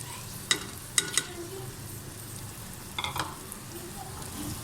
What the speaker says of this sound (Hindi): ये देखो, अब इसमें हम ऐड करेंगे भिंडी।